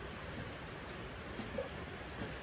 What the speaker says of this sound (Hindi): देखो क्या झमाझम बारिश लगी हुई।